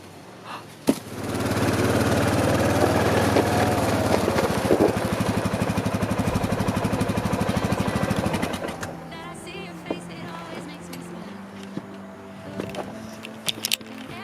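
A four-wheeler engine starts up close by and runs with a steady buzzing drone for several seconds, then cuts off, leaving quiet background with scattered small knocks.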